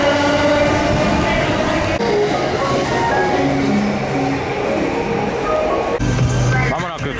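A retired rapid-line commuter train rolls past in Tokyo near Harajuku station, a loud, close rumble with rail clatter and shifting tones throughout, under people talking.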